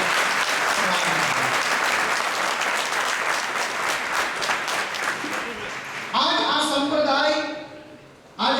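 Loud, sustained applause from a large audience welcoming a newly appointed Jain acharya monk, a dense clatter of clapping that swells, dips, then surges again near the end.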